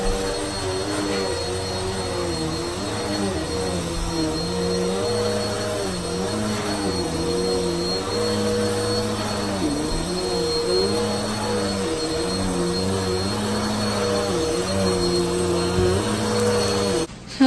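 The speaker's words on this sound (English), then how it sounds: "So guys, tapos na po ako mag-vacuum." A vacuum cleaner drones steadily for the whole stretch, a loud constant whir with a wavering pitch as it moves, no talking.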